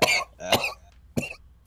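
Several people cough in short, harsh bursts, three quick coughs in all. They are close, with no talk.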